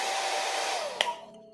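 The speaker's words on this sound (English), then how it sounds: "just a kiss of the hair dryer, just to lock that in a little bit." A hair dryer dries thinner on a scale model with a steady, close airy roar. It then switches off with a click and winds down to near quiet.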